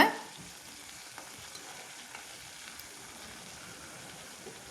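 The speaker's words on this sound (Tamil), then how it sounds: "சேர்த்துட்டு நல்லா வதக்கி விடுங்க." Shallots and curry leaves sautéing in a pan for homemade vatha kuzhambu, a continuous close sizzle with faint scrapes of stirring, no voices.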